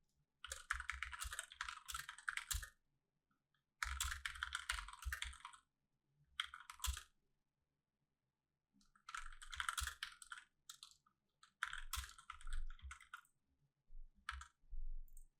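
Rapid typing on a computer keyboard while entering tags, dense bursts of close, crisp key clicks separated by brief silent gaps, with no voices over it.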